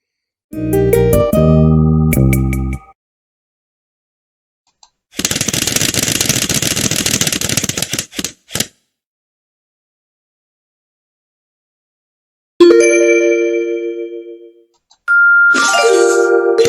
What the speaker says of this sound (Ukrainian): Зараз ми подивимося, що нам приготує рулетка.